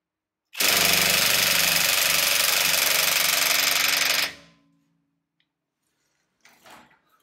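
A Ryobi ONE+ cordless impact wrench on setting 2 hammers steadily at car wheel nuts tightened to 140 Nm, a loud, continuous rattling burst of about four seconds that then stops, followed by a brief faint clatter.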